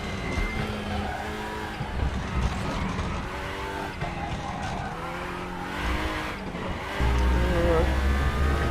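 A race car in the sim racing game RaceRoom screams under high revs as it brakes hard, with tire squeal and shifting engine pitch while the engine roar fills the background.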